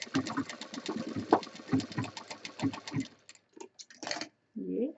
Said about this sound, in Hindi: अब इसके ऊपर हम मशीन चला देंगे